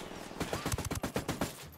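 Rapid bursts of automatic gunfire crackle in quick succession during a firefight in the video game Ghost Recon Wildlands, loud and close, with no talk over them.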